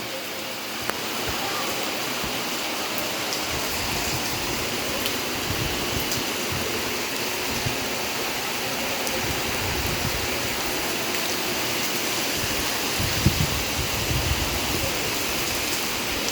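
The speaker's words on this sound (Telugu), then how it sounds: "అమ్మో ఎంత పెద్ద వాన పడుతుంది" Heavy rain pours down on a village in a constant, even hiss, a broad wash of noise that holds steady throughout, with faint scattered patters.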